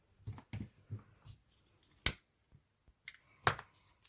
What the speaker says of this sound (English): Cut that extra off.